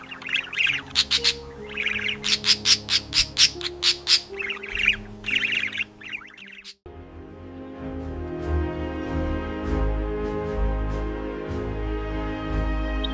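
Budgerigar squawking and chirping in a desert habitat, a run of rapid bright chirps first, then denser overlapping squawks and calls from a flock, loud and close throughout.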